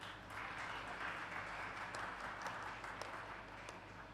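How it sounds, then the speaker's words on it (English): Audience at an awards ceremony for young women scientists in Sub-Saharan Africa breaking into applause: faint, distant, steady clapping over a low hum of room noise, lasting a few seconds. "Now you can applaud"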